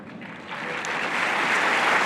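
Audience applause fills a large hall at a Jehovah's Witnesses annual meeting in 2024, a dense, steady clatter of clapping that swells slightly and holds loud with no voices over it.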